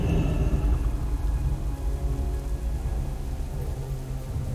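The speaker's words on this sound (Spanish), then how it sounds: "está lloviendo, ¿no?" Heavy, constant rainfall pours down with a low rumbling underneath in the game World of Warcraft: Battle for Azeroth, in the Nazmir zone, dense and unbroken from start to finish with no voices.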